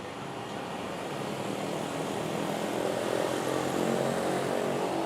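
A Philippine Airlines jet on flight PR 428 from Manila to Narita roars steadily at Manila airport, a broad continuous engine rumble that swells slightly louder toward the end, with no voices.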